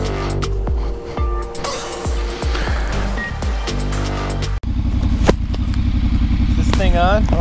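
A Triumph Scrambler 1200XE motorcycle engine idles loudly and close, then a sharp clunk marks the shift into first gear before the engine settles into a steady rumble, with someone talking over it.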